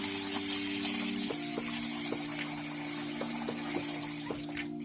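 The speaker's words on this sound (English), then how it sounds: "So what I'll do now, I'll just wash the lentil." Red lentils are rinsed under running water, a steady close splashing and trickling over a constant tonal hum, with small clicks and knocks of grains and bowl scattered throughout.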